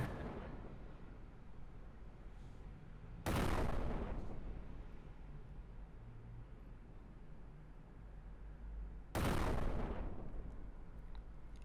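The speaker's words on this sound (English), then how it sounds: "maybe let's try with a grenade" Two heavy grenade blasts in the first-person game Status Entropos, each a sudden loud broadband boom with a rumbling tail, the second arriving about six seconds after the first over a steady low game ambience.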